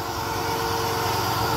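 A Kawasaki high-pressure washer engine runs steadily, a close, loud, even mechanical drone with no talk over it.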